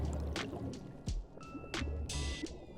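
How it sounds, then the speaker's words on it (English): Balloon bubble sound effects underwater in the game FFXIV: a few short, muted popping and gurgling blips with soft watery drips, quiet and alone. "Do the bubbles have a different sound effect underwater?"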